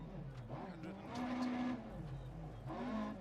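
Rally car engine in DiRT Rally 2.0 drones and revs steadily, swelling louder mid-clip with brief tire skids, while a voice talks faintly underneath.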